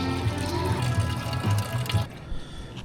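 Oily water drains out of a Fendt tractor part, a steady gurgling pour and splash close by that stops abruptly near the end.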